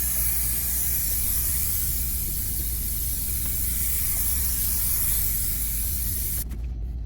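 Spray insulation is applied to the hull of a Silverton 34-foot convertible boat. A loud, continuous hiss runs close and unbroken for several seconds, then cuts off sharply just before the end.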